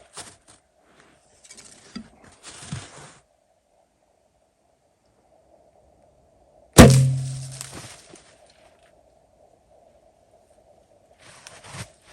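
A bow loosing an arrow at a snowshoe hare in the bush, a single sudden sharp thwack with a short decaying rumble, set amid near silence with faint rustling before and after.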